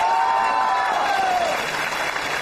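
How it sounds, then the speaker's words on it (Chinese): A studio audience at a televised comedy performance competition applauds to welcome performers to the stage, a loud, sustained burst of clapping and crowd noise with a tonal musical sting fading over it. "掌声欢迎他们。"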